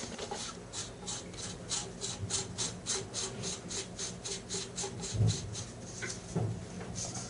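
Close, quiet rhythmic scraping and ratcheting as the Coastal Ultima 45 sound suppressor is threaded back on by hand, with a couple of soft knocks near the end.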